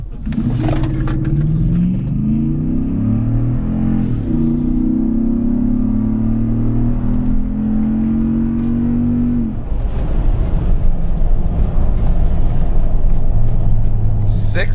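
A second-generation Toyota Sequoia SUV engine revs hard and climbs through gears in a steady, loud zero-to-sixty acceleration, then drops to a rumbling cruise with road and wind noise.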